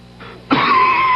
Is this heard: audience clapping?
no